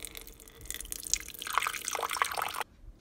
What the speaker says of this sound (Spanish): Voy a agregar de 8 a 12 onzas de café.